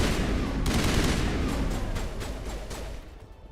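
Dense, rapid weapon fire from a gun in the video game Mass Effect rattles on continuously with sharp repeated reports, loud and close, fading slightly toward the end.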